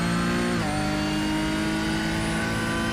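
The number 44 stock car's engine drones loud and steady in a NASCAR racing game, holding a sustained harmonic whine with a brief downshift-like pitch drop early on, then running at constant high revs throughout.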